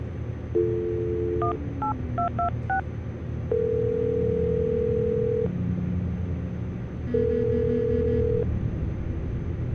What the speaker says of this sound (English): I'm going to dial the phone number